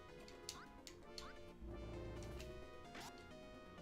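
Game ducks quacking in the Disney game Quackshot, several sharp quacks spaced over a few seconds above busy background music and a crashing sound effect.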